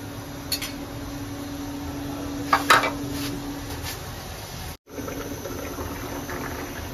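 A metal lid is set onto a cooking pot of taro with a brief clatter, heard close against a faint steady hum and light background noise.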